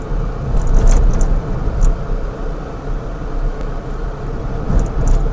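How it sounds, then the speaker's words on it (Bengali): Car driving on a busy road with trucks, a Matador van and other vehicles passing, making a steady loud engine and tyre rumble inside the cabin, with occasional light rattles and jangling. "ট্রাকও যাচ্ছে, অন্য গাড়িও আসছে, ম্যাটাডোরও আসছে"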